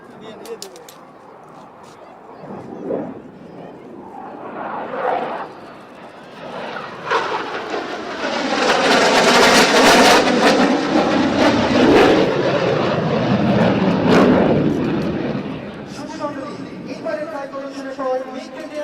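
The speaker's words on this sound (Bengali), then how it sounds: "মিগ-29 বিমানটি সর্বোচ্চতায় এগিয়ে আসছে ইনভার্টেড ফ্লাইট প্রদর্শন করতে" A MiG-29 military jet approaches high over a parade ground air show, its roar swelling from a distant rumble to a loud, broad peak before easing off, while an announcer talks over it.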